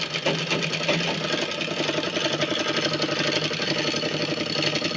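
An electric sewing machine runs a continuous fast stitch along a reinforcing seam on a Patiala salwar, a steady close rattling drone with no pauses.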